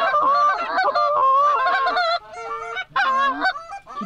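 Geese honk loudly and close by during a youth waterfowl hunt, several overlapping nasal calls in quick succession with short pauses.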